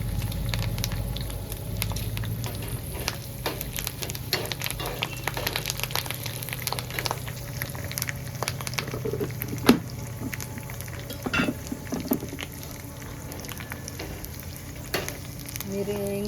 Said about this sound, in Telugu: చూడండి కరివేపాకు 3 ఒట్టిమిరపకాయలు వేసుకుందాం.